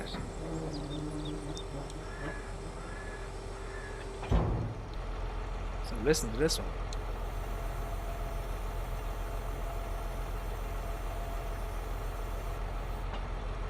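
A mod truck engine in Farming Simulator 22 starts with a short thump and settles into a steady, low idling drone that runs unchanged to the end. Someone speaks briefly at the start.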